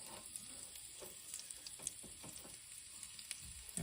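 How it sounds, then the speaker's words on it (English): Breaded chicken breast sizzles steadily in hot oil, a constant crackling hiss with small pops scattered throughout, fairly quiet and close. "hear that sizzle"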